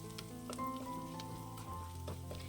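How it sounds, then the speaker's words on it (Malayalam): Shallots sauté in oil in a pan while cooking a tomato buttermilk curry, giving a steady, close sizzle and crackle with a few light stirring scrapes and no talking. "ചെറുള്ളിയുടെ കളറൊക്കെ ഒന്ന് മാറിയിട്ട് കുറച്ച് നേരം കൂടി ഒന്ന് വഴറ്റിയെടുത്താൽ മതിയാകും"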